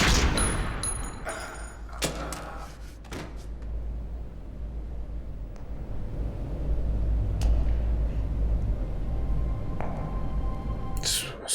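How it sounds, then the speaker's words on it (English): Gunfire from a Battlestar Galactica TV episode playing on a screen, with a few sharp shots and bangs early on, then a low rumbling scene underneath. "He's about to shoot her."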